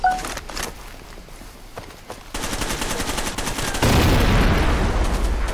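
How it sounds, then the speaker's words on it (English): Gunfire in the video game Far Cry 2 pops in scattered single shots, then builds into rapid continuous bursts of automatic fire that grow louder and denser toward the end. "I can hear loads of gunfire"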